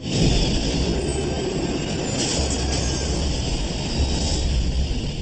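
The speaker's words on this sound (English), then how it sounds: "A Boeing MD-87 cuts through the morning fog." Boeing MD-87 jet airliner flying in morning fog, a loud, continuous engine roar with a low rumble and a steady hiss that holds evenly throughout, with no voices.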